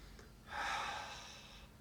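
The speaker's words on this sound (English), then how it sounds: "Nice breath in." A single deep inhalation taken during a slow qigong breathing exercise, a soft airy rush that swells over about a second and then fades, close and quiet with no talking.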